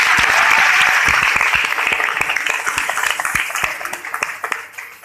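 A crowd of audience members claps steadily and densely throughout, loud at first and gradually thinning and softening toward the end, with no voices clearly heard.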